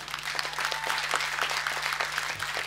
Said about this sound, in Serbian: Tako da, jedan velik aplauz mima.